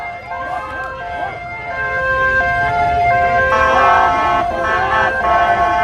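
A police escort siren wails loudly and close by on a Seattle street, its rising and falling tones cycling over traffic rumble and a horn toot, with people talking nearby.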